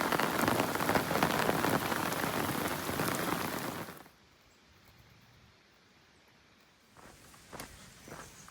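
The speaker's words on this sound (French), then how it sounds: "C'est le déluge." A heavy outdoor downpour roars loudly for about four seconds, then drops to a faint patter, with a few scattered drops returning near the end.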